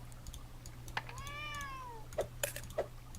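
A single drawn-out cartoon cat meow from a cute cat-collecting mobile game sounds over a faint low hum, followed by a few light taps or clicks.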